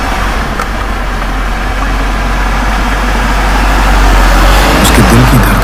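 A car engine runs steadily and loudly on a foggy night road, a constant low rumble that swells slightly toward the end, with no voices over it.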